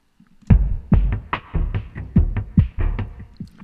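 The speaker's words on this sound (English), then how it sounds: "this random effects groove that sounds like this" A punchy electronic drum loop thumps in a steady, slightly syncopated groove, deep booming hits with crisp attacks repeating for a few seconds.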